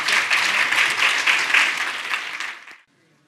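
A conference audience at a restorative justice event breaks into sustained applause that holds steady for several seconds, then fades out abruptly into near silence.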